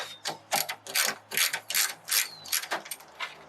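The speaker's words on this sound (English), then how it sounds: "That one needs a bit more ratcheting." A ratchet wrench loosening bolts on a Toyota FJ Cruiser during a rebuild, close and crisp, in repeated bursts of clicking strokes with short pauses between them.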